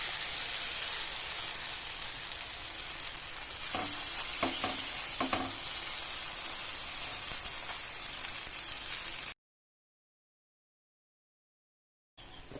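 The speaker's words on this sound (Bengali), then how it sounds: "তাওয়ায় দিয়ে দেবো।" Chicken atta paratha fries on a hot tawa with a steady, dense sizzle, a few soft scraping strokes over it, then a gap of silence before the sizzle returns briefly.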